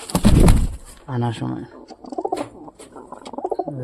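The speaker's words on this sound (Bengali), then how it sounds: "পায়রাটা তো প্রথম প্রথম ভালোই ডাকলো" A pigeon coos in low, rolling repeated phrases close by, following a loud rustle or wing flap at the start, with a person speaking briefly over it.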